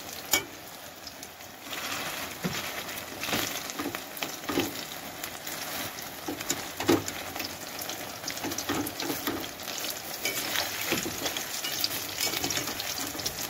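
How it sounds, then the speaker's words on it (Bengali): Rice flour fritters fry in oil with a soft, continuous sizzle, broken by scattered crackles and occasional light clinks of stirring. "এরকম করে আমি সবগুলো ভেজে নেব।"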